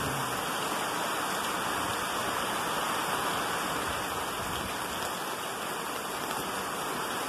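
Steady broadband hiss of the first November rain in Lake Elsinore, California, falling continuously and evenly throughout with no pauses, with no voices and no other distinct sounds standing out.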